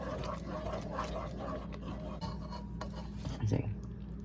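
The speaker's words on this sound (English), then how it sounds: "We're going to mix it so the peanut butter melts a little bit" Peanut butter being stirred in a pot for no-bake cookies, a steady scraping and rubbing of a utensil against the pan with a few light clinks.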